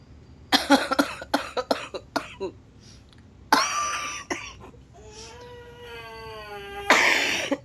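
Repeated coughing from a person who is ill, several sharp bursts in quick succession near the microphone, then a strained voice and a further rough coughing fit, with throat sounds between.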